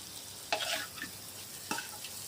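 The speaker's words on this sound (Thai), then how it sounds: "มันจะใส่กระลำปีลงไปผัดให้มันสุกครับพี่น้อง" Cabbage is stir-fried with onion in a pan for a glass noodle and egg dish, two distinct scraping spatula strokes over a quiet, soft background sizzle.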